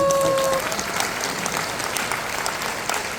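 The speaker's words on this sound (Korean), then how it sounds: "박수 한번 보내주세요" Audience applause at a corporate leadership event, a steady dense clatter of many hands clapping that holds at an even level throughout, with a brief tone fading out at the start.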